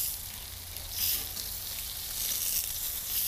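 Chicken thighs searing over high heat on a grill grate, a continuous close hiss of sizzling fat with gentle swells in loudness and no talk.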